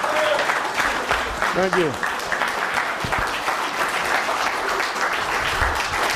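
Audience applause for a speaker, a continuous steady clapping that fills the room. A voice briefly speaks over it.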